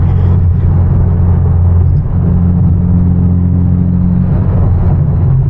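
A manual Hyundai Genesis Coupe drives fast through empty downtown streets at night, its engine a loud, steady low drone heard from inside the car, with a brief dip in pitch as it shifts gear partway through.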